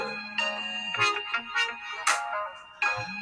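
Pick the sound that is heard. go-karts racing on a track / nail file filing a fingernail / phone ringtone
phone ringtone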